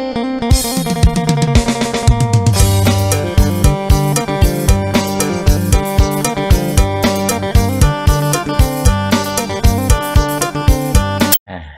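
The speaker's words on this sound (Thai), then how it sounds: "นี่เป็นเสียงพิณนะครับอยู่ทางภาคอีสานนะครับ" A bright plucked phin, a lute from Thailand's Isan region, plays a fast, lively rhythmic melody over a steady drone, with dense repeated notes and no voices, ending abruptly.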